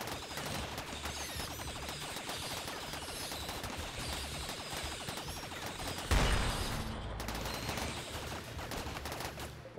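Dense, nonstop volleys of gunfire come from a RimWorld colony's massed shooters and machine gun. The shots rattle rapidly and loudly throughout, with a brief heavier crash partway through.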